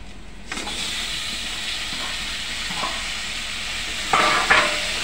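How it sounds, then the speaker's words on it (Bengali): Kochu lati (taro stolons) fry in oil with a steady, close sizzling hiss throughout, broken by a few louder scraping stirs near the end. "এবার এটাকে ভালো করে এর সাথে একটু তেলে ভাজতে হবে।"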